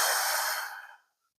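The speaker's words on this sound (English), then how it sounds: "take the time, go deep breath in through the nose" A single slow, deep breath through the nose, close and airy, holds steady and then tapers off into silence, done as a calming exercise for public speaking nerves.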